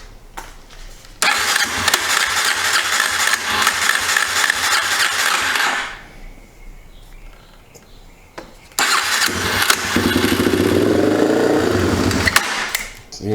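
A 2004 Yamaha TTR 250 motorcycle with a suspected dirty carburetor idle circuit and bad gas cranks and runs loudly, dies out, then is cranked again and catches, revving steadily up close.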